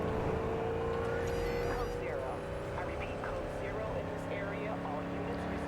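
Armed car driving in Cyberpunk 2077, a continuous engine drone with rising and falling revs and tonal whine, steady and moderately loud, with a voice talking over it.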